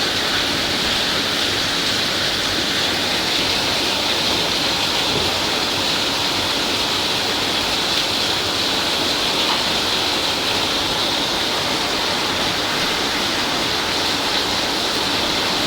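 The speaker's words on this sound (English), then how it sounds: "It is a heavy downpour here." Heavy rain pours down in a dense, continuous hiss, loud and steady throughout with no pauses, like a downpour close by.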